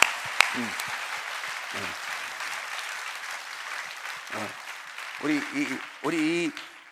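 A church congregation at a holiday worship meeting gives a round of applause, moderately loud and continuous. A voice speaks over it in short bursts, growing more prominent toward the end.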